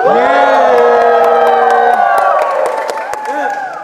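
A loud crowd at a rap battle cheers and shouts together, sustained and energetic, with whoops rising over the roar before it gradually eases off.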